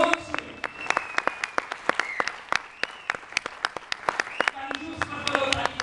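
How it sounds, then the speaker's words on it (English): A small group claps for students, with distinct, uneven hand claps spaced apart rather than merging into a roar. People's voices sound alongside the clapping throughout. "A big round of applause for your own students."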